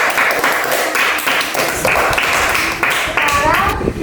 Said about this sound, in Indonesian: Sekarang tepuk tangan buat kalian.